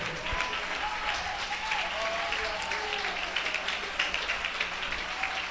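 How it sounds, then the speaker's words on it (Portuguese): A church congregation claps along with lively joy, steady dense applause filling the room throughout, with some voices and faint singing tones threaded underneath. "Aplaude a Jesus Cristo com muita alegria"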